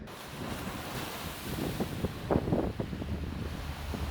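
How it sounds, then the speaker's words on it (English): Sea waves on the Cà Mau coast of Vietnam wash against the shore under a steady wind, with a few louder surges breaking in the middle. The sound is fairly faint. "The waves roar day and night, encroaching the coast"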